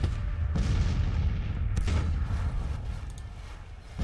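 Booming Civil War artillery fire in the strategy game Grand Tactician, a sustained low rumble with two sharper cannon blasts breaking through and rolling away, no voices over it.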